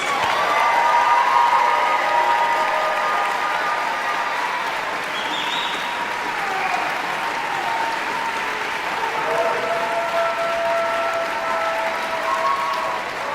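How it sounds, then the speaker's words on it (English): A large commencement audience applauds new bachelor's and master's graduates in sustained, even crowd clapping that fills the hall for the whole stretch, with a faint tonal hum running beneath. "How about one more round of applause for those new graduates?"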